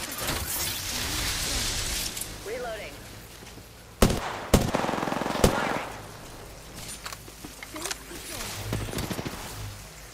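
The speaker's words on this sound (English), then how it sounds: "I'm shooting the left side to keep him off of it." Gunfire in a video game: bursts of rapid shots and sharp bangs, loudest in a cluster around the middle, mixed with game effects while players talk over it.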